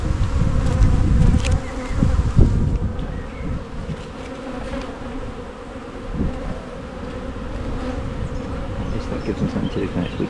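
Honeybees buzz steadily around an opened beehive during an inspection, with a dense close drone that swells louder at first and then settles, plus occasional frame knocks.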